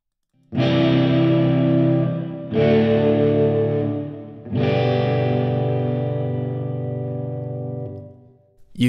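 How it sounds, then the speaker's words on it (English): Electric guitar through an amp simulator and reverb plugin in Logic Pro strikes three loud, distorted chords in turn, each one sustaining and decaying into a lingering tail, with the last left to fade out. "Now let's add a reverb to the sound."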